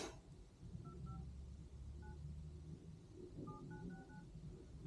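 A phone dials a customer's number at a car dealership: a few beeping keypad tones early on, then a quicker burst of several more, over a low steady rumble.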